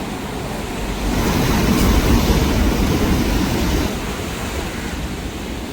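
Steady roar of ocean surf on the Kerala coast with a swell of big crashing waves building in the middle, broad and washing, mixed with some wind.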